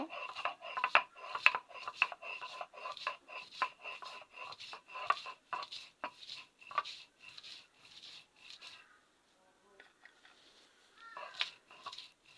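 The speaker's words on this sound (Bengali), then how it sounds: "আমি এবার শিলপাটায় বেটে নেব" Raw onion, garlic and salt being crushed on a shil-pata grinding stone, a rhythmic series of close, gritty scraping strokes, roughly one every half second, fading out before a few last rubs.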